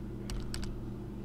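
A few quick keystrokes on a computer keyboard, tapped in a short cluster of clicks over a steady low electrical hum, close and alone.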